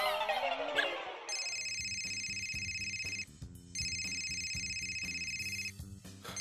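A mobile phone rings nearby with a bright electronic ringtone tune that plays in repeating phrases with a short break in the middle, clear and loud after a brief opening noise.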